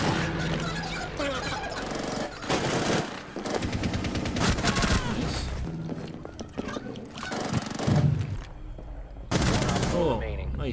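Video game gunfire in a tactical multiplayer shooter match, loud dense bursts of automatic fire and shots layered close together, with game sounds and players talking underneath.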